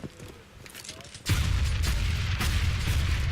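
Grenades detonating during a professional Counter-Strike match on de_overpass: after a quiet lull, a sudden heavy blast swells into a sustained rumbling roar with further bursts, loud and close, with commentator voices in the mix.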